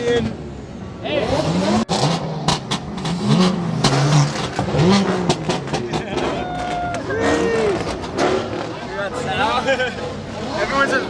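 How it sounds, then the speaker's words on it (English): Several cars at a car meet rev their engines in repeated rising and falling bursts, loud and close, overlapping with one another while a crowd of people talks and shouts underneath. "Everyone's just revving the cars."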